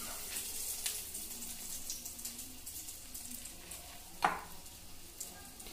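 Breaded bread snacks sizzle in oil in a pan on a low flame, a soft continuous crackle close by with occasional light clicks and one brief louder scrape, no talking.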